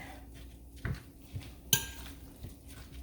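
Utensil mixing fish sauce into ingredients in a bowl, heard as a few scattered clinks and scrapes with one sharper knock partway through, close and fairly quiet.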